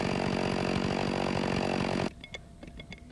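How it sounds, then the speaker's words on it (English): A logger's chainsaw cutting a wedge into the base of a tree, a loud steady buzzing drone that cuts off abruptly partway through, leaving faint ambient noise. "The logger uses a chainsaw to cut a wedge from the base of the tree"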